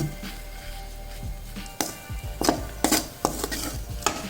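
Egg kothu parotta sizzles in a hot pan while a utensil stirs and chops it, giving repeated sharp metallic clanks and scrapes over a continuous frying hiss.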